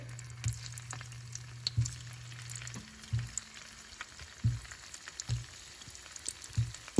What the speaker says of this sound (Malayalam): ഇനി നമ്മുടെ പനീർ എടുത്ത് നമുക്ക് ഫ്രൈ ചെയ്തെടുക്കണേ